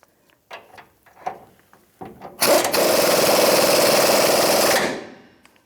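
A few light clanks and taps, then a loud, steady power-tool whir runs for a few seconds before winding down and stopping as a bolt on a 1992-1996 Ford F-150 rear leaf spring shackle bracket tightens to a dead stop.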